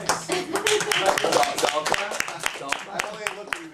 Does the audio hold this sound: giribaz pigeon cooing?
no